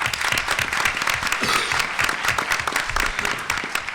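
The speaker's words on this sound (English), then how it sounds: "I'd like for you all to give a warm round of applause to Congressman Green" Audience applause welcoming Congressman Green, a member of the Congressional Black Caucus, at an event on women, violence and gun control: dense, steady clapping from a sizable crowd, sustained and even throughout.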